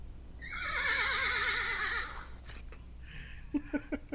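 Horse neighs in a loud, wavering whinny lasting about two seconds, then snorts and a few short huffs follow nearby.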